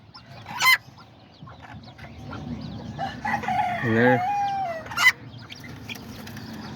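Aztecas chickens, roosters and hens, give off scattered clucks and a drawn-out crow mid-clip, with sharp bursts near the start and end over a steady outdoor background, and brief speech.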